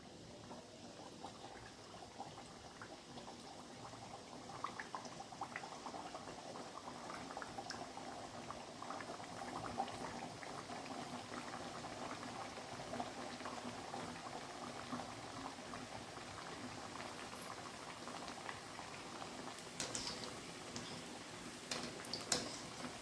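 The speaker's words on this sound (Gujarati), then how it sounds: "હવે આપણે પૂરી તળી લઈશું આવી રીતે" Hot oil bubbles and crackles continuously as wheat-flour puris deep-fry, a steady, busy fizzing with no talking.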